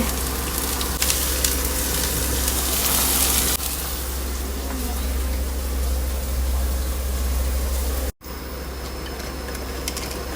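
Onion frying in hot oil with cumin, a steady close sizzle that continues throughout with a brief clatter and one sharp dropout near the end.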